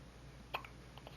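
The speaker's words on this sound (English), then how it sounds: "You got the hiccups?" A newborn baby hiccups softly a couple of times in a quiet room, short faint bursts separated by a brief pause.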